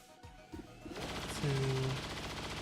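Area suppression gunfire from XCOM 2, a sustained burst of rapid automatic shots rattling over a low electronic drone and a brief tonal sound effect, with no voices.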